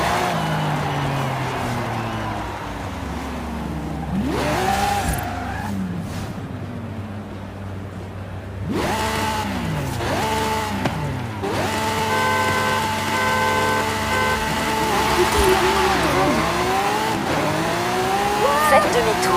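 A car races along a highway in Forza Horizon 5, its engine revving loudly through repeated rising and falling gear shifts with tire squeal, while people talk over the game audio.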